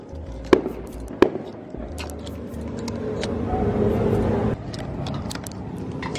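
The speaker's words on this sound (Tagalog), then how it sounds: "Oh my God, merong fireworks." Two sharp distant bangs of Christmas Day fireworks pop early on, followed by scattered crackles over a background of passing cars.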